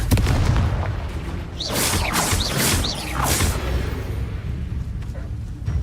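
Blasting Confringo spell explosions from Hogwarts Legacy, several loud booming bursts with whooshing trails during combat, over a constant rumbling game background.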